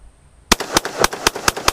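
An AR-15 rifle with an ATI Omni Max polymer receiver fires a rapid string of about seven loud, sharp shots, close and evenly spaced after a brief quiet start.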